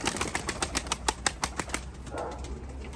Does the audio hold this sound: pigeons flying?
yes